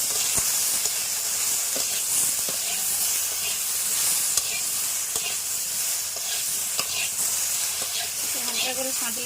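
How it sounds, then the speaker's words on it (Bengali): Hilsa fish sautéing with salt in a hot pan gives a steady close sizzle with light stirring scrapes and occasional sharp spatter pops throughout. "লবণ একটু দিয়ে দেবো, দিয়ে ভালো করে সাঁতলে নেব।"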